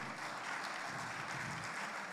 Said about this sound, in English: I think we should clap very well.